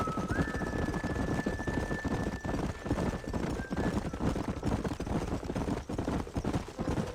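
Horses in the Red Dead Redemption video game clop along at a steady gallop, hooves thudding over a continuous bed of movement and ambient noise with a thin tone running above, fairly distant and without talk.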